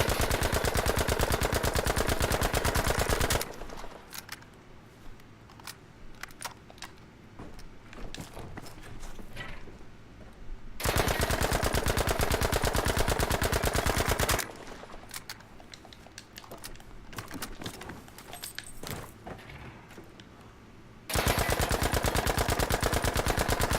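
Sustained automatic gunfire from magazine dumps in Battlefield V on a shooting lane, two long loud rapid bursts separated by quieter stretches of scattered shots and clatter.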